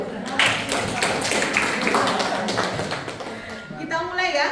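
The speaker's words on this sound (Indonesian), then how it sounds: "Oke, tepuk tangan dulu" A classroom of students claps their hands together in a dense burst that fades slightly, with voices mixed in.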